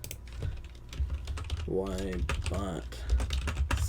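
Fast clicking on a computer keyboard while someone renames files in a game-development project. The clatter is close and steady, with a person speaking briefly midway.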